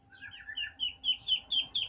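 Mother duck calling her ducklings in a farmyard, a series of rising, repeated peeping calls growing louder in a steady rhythm, fairly close with no talk.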